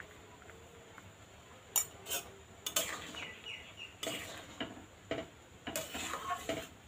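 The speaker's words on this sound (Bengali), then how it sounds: "সবগুলো একটু ভালো করে নাড়িয়ে নিন।" A spoon scraping and clinking against a pot while vegetable khichdi is stirred, a few sharp irregular knocks and scrapes separated by quiet stretches, close and fairly soft.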